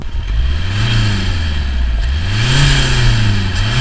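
A diesel Alfa Romeo 147 1.9 JTDm revs in rising and falling sweeps, loud and close, its engine note climbing twice with a gravelly exhaust drone throughout.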